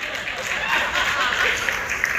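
Scattered audience clapping fills a press conference room for the IIFA Awards, a steady, moderately loud wash of applause mixed with crowd murmur.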